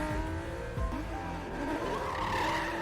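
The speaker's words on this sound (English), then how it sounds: "They both get in the car and sped their way to freedom." A getaway car roars off at speed, its tires skidding and squealing over a steady, loud engine drone that fills the whole stretch.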